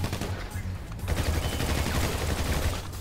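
Gunfire in a GTA 5 team deathmatch, a dense, steady rattle of shots and low booms running continuously at moderate loudness, with the battle noise filling the whole stretch and no talk over it.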